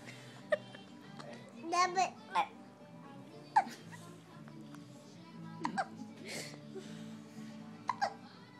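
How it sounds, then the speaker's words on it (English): A small child hiccups several times in a home, sharp little catches spaced irregularly, with an adult talking nearby and a dog whimpering faintly in the background. "Here's the hiccups."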